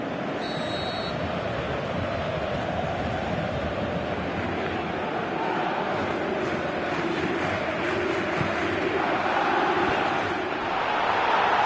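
Stadium crowd noise from the video game Pro Evolution Soccer 2018 during a match, a steady broadband roar of spectators that holds at an even level throughout, swelling slightly near the end, with no clear speech.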